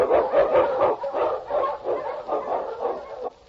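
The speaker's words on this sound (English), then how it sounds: "The Wonder Dog King, swiftest and strongest of Eskimo lead dogs, blazes the trail through storm and snow for Sergeant Preston" Eskimo sled lead dog in a Yukon radio drama barking steadily in rapid, excited bursts, up close and loud with no talk over it.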